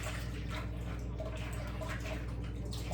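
Lamb meat is washed in water with a few drops of lemon juice, giving steady splashing and trickling over a low background hum.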